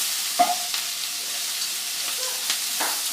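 Onions frying in oil in a pan on a gas stove, a faint steady sizzle with a few soft clicks and scrapes of stirring, no talking.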